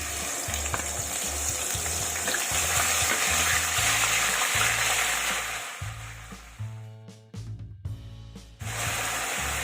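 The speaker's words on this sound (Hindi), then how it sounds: "सबसे पहले हम जीरा, लौंग, छोटी इलायची और तेज पत्ते को इसमें तेल में डाल देंगे।" Cumin, cloves, green cardamom, bay leaves and ginger-garlic fry in hot oil, crackling and sizzling loudly and close, with stirring scrapes, a brief dip and more clatter, then full sizzle again.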